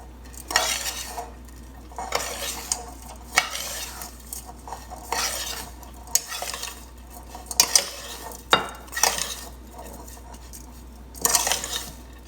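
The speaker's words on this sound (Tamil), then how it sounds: "ஸ்வீட்டுக்கு வந்து சீனி தேவையான அளவு மிக்ஸ் பண்ணிவிட்டு" A utensil stirs and scrapes in a pot in repeated strokes, mixing sugar into idiyappam. The clinks and scrapes come at an irregular rhythm, close and moderately loud, with no talking.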